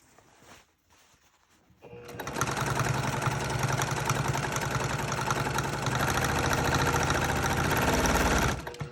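A sewing machine stitches a fabric boho purse, starting after a quiet moment with a few soft handling sounds, then running loud and continuous at steady speed for several seconds before stopping abruptly.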